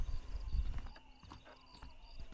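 Horse hooves in Red Dead Redemption: a short run of soft clip-clopping hoof falls with faint snorting, fairly quiet and alone against the game's low ambience.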